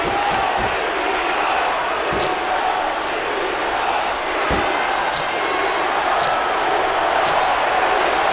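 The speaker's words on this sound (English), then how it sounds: "It's been a long time since I saw a crowd get behind a superstar the way they have for John Cena" A WWE SmackDown wrestling video game arena crowd roars continuously behind a John Cena match, a dense, loud wash of cheering punctuated by occasional dull thuds from the ring.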